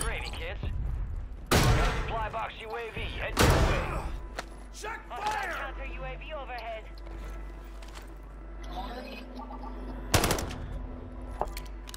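Gunfire aimed at the player in Call of Duty cracks out as a few loud, isolated shots spread across the stretch, with chatter and game noise between them and a low engine drone underneath.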